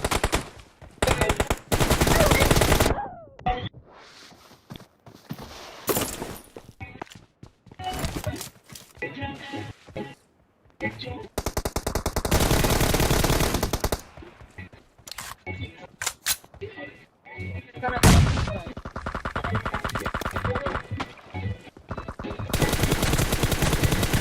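Automatic machine gun fire in the battle royale shooter PUBG, loud repeated bursts of rapid shots separated by short pauses, with game voice callouts heard between volleys.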